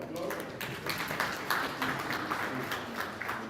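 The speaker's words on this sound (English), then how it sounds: "Can we please give a round of applause?" An audience at a Nigerian strategic planning retreat applauds an ambassador, with a moderate spread of hand clapping that continues steadily under a speaker's voice.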